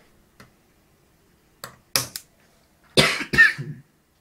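Several dry coughs from a person who is a little sick: a faint one early, then two short coughs, then a louder closer burst of coughing and throat clearing near the end, separated by silence.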